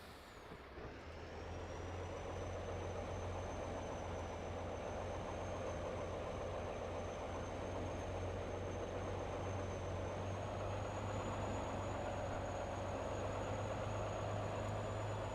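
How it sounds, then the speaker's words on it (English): A truck engine in Farming Simulator 22 labours slowly under heavy strain, a steady low drone with a constant whine above it, holding loud and unbroken throughout without any talk. "Our truck has never gone this slow."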